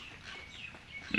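Pig grunting on a small pig farm in Assam, low soft grunts and snuffles running through the short moment, fairly faint, with a slightly louder grunt near the end.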